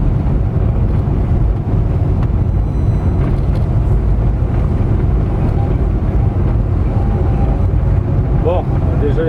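Renault 11 GTL engine running on a test drive after sitting unused for 13 years, a loud continuous low rumble with heavy wind buffeting throughout and no clear change in pitch.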